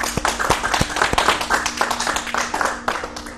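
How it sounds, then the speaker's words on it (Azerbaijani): Applause from a small group at a school tongue-twister contest, several quick claps in a loose rhythm, fairly close and loud over a faint steady hum. "alqışlar."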